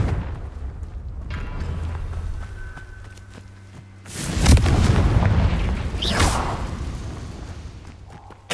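Confringo spells in Hogwarts Legacy go off as two fiery explosions. A heavy, loud boom hits midway and a second burst follows a couple of seconds later, each trailing into a crackling rumble.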